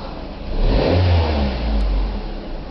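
A Ford Focus 1.8 Ghia engine revs up, swelling from a low idle to a strong mid-pitched roar and holding there, close and loud, with no talk.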